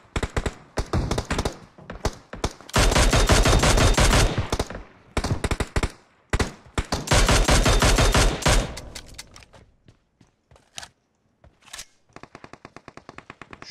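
Sustained automatic rifle fire rattles in PUBG Mobile, long loud bursts broken by short pauses, ending in a run of fainter, evenly spaced single shots, with almost no talking.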